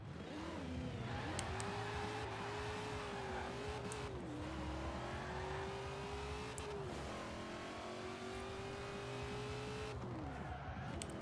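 Classic muscle car in a Forza racing video game with a 623 horsepower, 2,869 pound build and fat exhaust, engine note rising and falling through repeated revs and gear shifts, steady and continuous with brief tire squeals.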